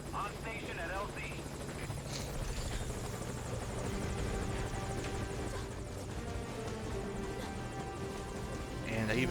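A helicopter arrives at a landing zone in MGS V: Ground Zeroes, its rotor drone continuous and steady throughout, loud and close, with a voice speaking over it.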